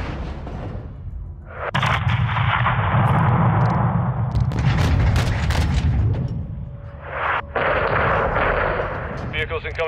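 Heavy artillery explosions pound in Call of Duty Modern Warfare II, a loud, sustained rumble of booms and gunfire with a short lull before another thunderous barrage.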